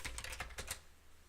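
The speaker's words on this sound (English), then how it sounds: "My keyboard's broken." Quiet, rapid keystrokes on a computer keyboard, about half a dozen soft clicks in under a second, faint and close with no voices.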